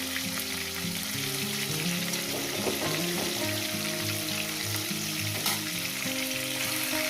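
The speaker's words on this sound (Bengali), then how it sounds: "মাছগুলো আমার ভাজা হয়ে গেছে" Rohu fish pieces fry in oil in a pan. A dense crackling sizzle runs throughout, with a steady layered low hum underneath it that could be a stove or fan. No one speaks.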